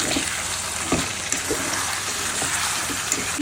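Tomato and garlic stalks fry in hot oil, giving a steady, dense sizzle with small pops and faint clinks scattered through it. No voices are heard.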